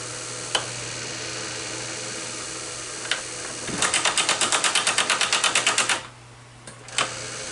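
A tapping head on a drill press works a hole in a close, loud burst of rapid, evenly spaced mechanical clicks lasting about two seconds, then cutting off, with a few single knocks before and after.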